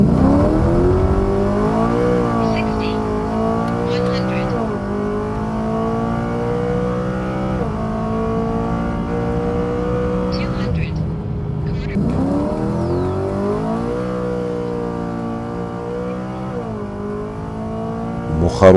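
A 2021 Chevrolet Camaro SS with a heads and cam package, a naturally aspirated V8 build of over 700 hp, drives with a loud, close engine note. Revs rise and fall repeatedly, with a brief lift-off midway, and no talk is heard.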